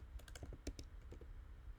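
Quick bursts of keystrokes clatter on a computer keyboard as a question is typed out, a close, crisp run of irregular taps that trails off into quiet.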